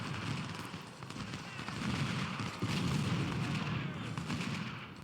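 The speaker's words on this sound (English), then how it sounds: "Let's get some more shooting on green." Continuous rattling infantry gunfire from a Civil War battle in Ultimate General: Civil War, dense and steady, with a narrator talking over the top of the shooting throughout.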